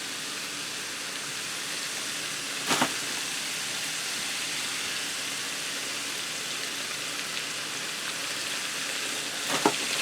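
Lemon juice and parsley hit a hot pan with shrimp, producing a dense, steady sizzle throughout, with two brief sharper crackles or clinks standing out.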